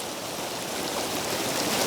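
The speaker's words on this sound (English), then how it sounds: "The water is really ripping," Fast stream water tumbling through tricky, complex currents at an off-trail trout fishing spot, a close, dense, steady rushing hiss with no break.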